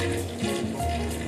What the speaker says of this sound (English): Instead, I'm just going to add some water.